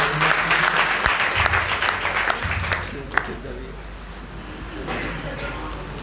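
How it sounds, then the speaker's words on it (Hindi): A crowd at an Arya Samaj festival session claps steadily and loudly to welcome a speaker, and the applause thins and fades toward the end while a voice speaks faintly underneath. "तालियों से ब्रह्मचारी का स्वागत"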